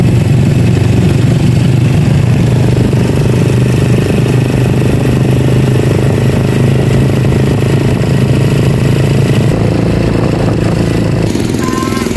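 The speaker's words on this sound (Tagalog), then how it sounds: "Nakasakay na po ako ng tricycle pabayan na." A motorcycle tricycle carries a rider toward town, its engine running with a loud, steady rumbling drone throughout and a brief shift near the end.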